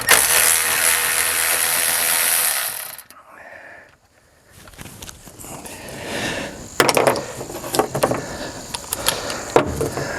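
A ratchet wrench removes a couple of 13 mm bolts from the engine shroud of a Vanguard 16 hp engine on a 6x6 amphibious vehicle: a loud, close burst of noise, a pause, then bursts of quick clicking strokes.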